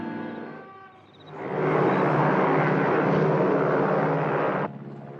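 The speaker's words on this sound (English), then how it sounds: "Very powerful plane." A powerful airplane's engine drones in flight, a broad steady roar that rises in after a quieter moment, holds loud and even, then cuts down abruptly near the end.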